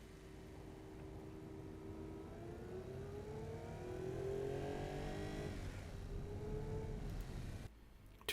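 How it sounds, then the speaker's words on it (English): In the racing sim Automation, a heavy non-sports car circles a test track, its engine droning steadily and rising in pitch as it accelerates, then dropping away before a sudden cut at the end. "This is not a sports car, but let's see how fast it'll get around the track."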